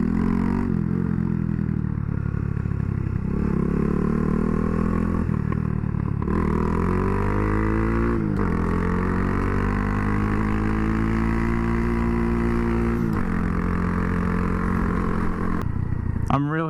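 Honda Grom fitted with a 402 Innovations carbon fiber exhaust, engine loud and close with rising and falling revs, intermittent crackles and pops on the overrun throughout.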